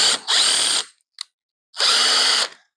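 A power drill boring a pilot hole into wood for a screw while a folding pegboard display is built, heard as two loud sustained whirring runs separated by a short pause and a brief click, very close.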